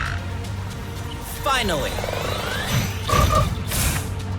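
A frog croaks in the video game Haven, with a few guttural calls rising out of game ambience while a person speaks briefly.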